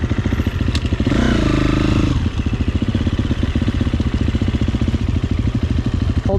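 A dirt bike at an off-road adventure park, its engine idling with a loud close chugging beat, then revving briefly and pulling away as the clutch is released, with rattling clatter and no talk.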